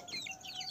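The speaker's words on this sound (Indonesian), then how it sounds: "Ayam kampung silangan, indukan kampung, dan pejantan Bangkok." One-month-old crossbred chicks from a kampung hen and a Bangkok rooster give a quick run of soft, high chirping peeps, close by and faint, lasting less than a second.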